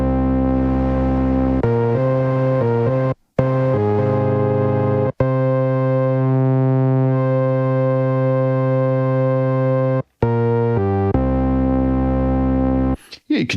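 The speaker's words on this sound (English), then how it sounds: "Here you can adjust the mixing for oscillator 1 and 2 and add some noise." Sustained discoDSP OB-XD software synth tones, two oscillators mixed with added noise, holding steady harmonic notes with several brief dropouts and a change in pitch partway, loud and alone.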